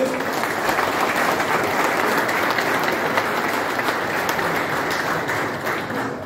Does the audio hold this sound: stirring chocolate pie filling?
no